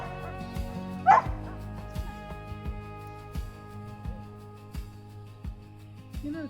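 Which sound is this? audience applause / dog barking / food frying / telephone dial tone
dog barking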